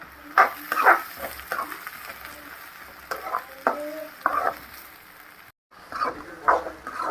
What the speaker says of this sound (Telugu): అట్నే కట్ చేసుకొని పెట్టుకున్న పచ్చిమిర్చి, క్యారెట్, ఎర్రగడ్డ ముక్కలు వేసుకొని ఫ్రై చేసుకోవాలి.